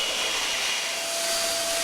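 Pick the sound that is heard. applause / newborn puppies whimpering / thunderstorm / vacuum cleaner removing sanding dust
vacuum cleaner removing sanding dust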